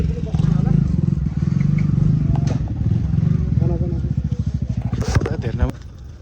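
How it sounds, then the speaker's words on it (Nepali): A motorcycle engine rumbles close by on a hillside road, its throbbing putter growing more pronounced before cutting off near the end, with people talking over it. "अर्को बाइक आयो"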